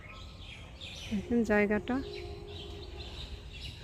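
Birds call near a riverside forest: a short burst of chirps and a clear warbling call stands out for about a second, with faint calls and a person speaking around them.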